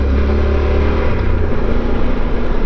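A Yamaha Super Tenere motorcycle ridden along a gravel road in Virginia, its engine a steady loud low rumble with a slight rise in revs, close and continuous.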